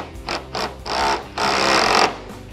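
A power driver tightens a solar panel clamp onto the seam of a standing seam metal roof in three short, loud whirring bursts, the last one longest.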